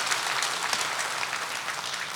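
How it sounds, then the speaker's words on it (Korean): Church congregation clapping in thanks during a Sunday worship service, a steady dense wash of many hands filling the room from start to finish with no voices over it. "그렇게 해주실 하나님께 감사 박수 올려드리겠습니다."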